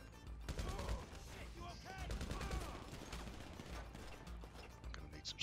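Rapid bursts of video game gunfire shooting through a wall, loud clattering volleys stacked together with mechanical clicks, close and busy, with a voice partly mixed in.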